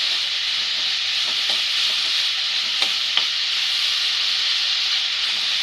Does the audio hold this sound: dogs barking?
no